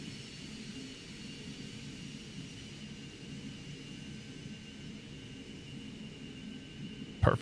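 Twin jet engines of a Cessna Mustang running in a flight simulator, a steady low roar with a faint high whine, constant throughout, ending with a brief sharp click.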